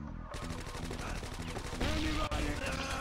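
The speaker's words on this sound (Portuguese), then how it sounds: "essa arma é a MP5 ZK" MP5 submachine gun fire in a video game, rapid close bursts of shots that start abruptly and continue steadily, with a voice talking over them.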